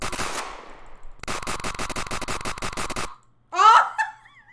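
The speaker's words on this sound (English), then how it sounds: "You got too hype with that machine gun." A machine gun firing in a video game, a long rapid burst of close, loud shots, followed by a brief high laugh.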